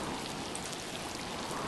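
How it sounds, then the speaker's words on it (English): Steady rain falling in the video game Miasmata, a dense, even hiss of drops filling the whole moment with no pauses and no voices. "Now it's raining."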